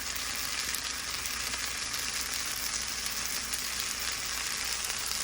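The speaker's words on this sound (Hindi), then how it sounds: "बस इसे स्टिर फ्राई करती हूँ थोड़ी देर" Broccoli, corn and carrots stir-frying in a pan, giving a steady, close, crackling sizzle that stays even throughout, with no voices.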